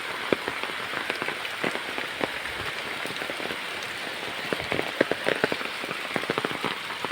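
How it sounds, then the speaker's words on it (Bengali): Drops of rain patter down in a village, a steady dense hiss broken by irregular close taps and splashes, constant in level and free of speech. "ফোটায় ফোটায় বৃষ্টি পড়ছে।"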